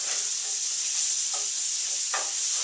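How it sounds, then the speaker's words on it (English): Vegetables and soybeans for vegetarian chili sizzle in a pot while being stirred; a constant frying hiss carries a couple of quick scraping strokes, close and fairly loud. "Stir those around a bit, break them apart."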